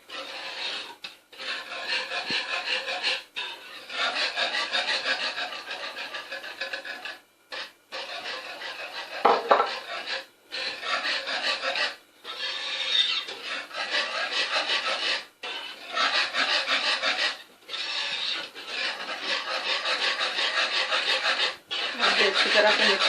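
Egg barfi mixture with milk powder being stirred and mashed in a bowl makes rhythmic, gritty scraping bursts, close and fairly loud, with brief pauses between strokes.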